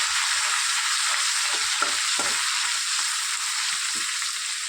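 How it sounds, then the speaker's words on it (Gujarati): Ground green ginger, chili, garlic and coriander paste sautéing in oil, a loud continuous hissing sizzle with a few soft stirring knocks. "લીલા આદુ મરચાં લસણ અને કોથમીરને વાટીને હવે સારી રીતે તેલમાં સાતળવા દેશું"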